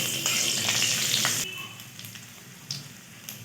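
Vermicelli, cashews and raisins frying in a pan on low heat for sweet Eid seviyan: a loud, steady sizzle that fades after a moment, leaving softer crackling and occasional stirring scrapes.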